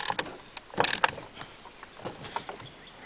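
Bar nuts on a Stihl chainsaw being snugged down with a wrench, heard as quiet, scattered metallic clicks and scrapes with a short cluster of louder rattles near the middle.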